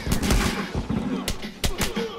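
Shotgun blasts in The Last of Us Remastered multiplayer, a few sharp booming shots spread across a noisy firefight, with players talking over the action.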